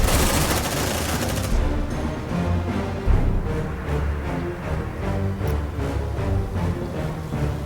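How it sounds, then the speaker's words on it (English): Sustained gunfire in the sci-fi game Aliens Dark Descent, a loud dense barrage of rapid automatic shots and bursts rolling continuously from start to finish with heavy low thumps. "Suppressive fire!"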